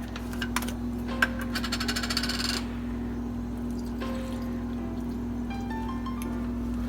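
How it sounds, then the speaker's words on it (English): Milk poured into a freezer meal bag for a premade frozen meal, a close, soft trickle lasting a couple of seconds, then quiet with a few faint clinks and rustles. "I'm going to go ahead and add about 2 ounces of milk."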